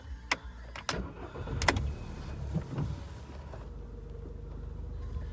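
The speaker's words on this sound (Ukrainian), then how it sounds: "Давайте запустимо двигун." Skoda Octavia engine cranks and starts with a few sharp clicks and a short whirring burst, then settles into a low, steady idle heard fairly close in a quiet setting.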